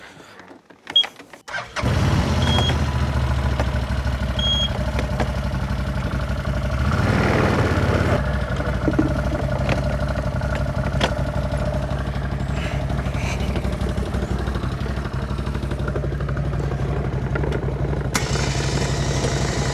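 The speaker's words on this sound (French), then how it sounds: "je vais prendre le quad" A quad bike engine starts and settles into a steady, loud running drone close by, holding a constant idle for a long stretch with no talking.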